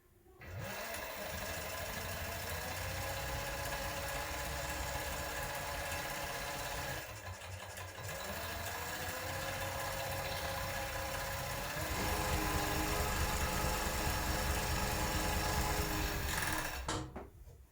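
Overlock sewing machine stitching hoodie fabric with Ankara lining runs in a continuous loud mechanical whir for most of the stretch, with a brief slowdown midway and a slightly stronger run before stopping.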